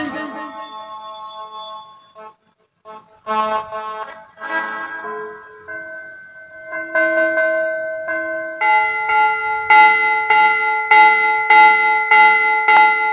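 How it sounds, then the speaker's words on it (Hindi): A bell rings out repeatedly and loudly in a Hindu devotional setting, its bright, sustained tones building into a steady, insistent ringing pattern with no talk over it. "जोर जोर से घंटी बजी"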